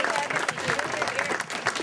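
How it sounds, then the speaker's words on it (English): Applause rises from the crowd at a ladies' golf club Captain's Show at Green Hill for outgoing captain Nancy Levin, moderately loud, dense clapping with voices mixed in throughout. "let's give a round of applause to outgoing captain Nancy Levin."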